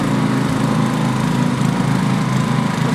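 Lawn mower engines roar steadily at a lawn mower race, a loud continuous buzzing drone with a strong low hum held for the whole stretch, no voices over it.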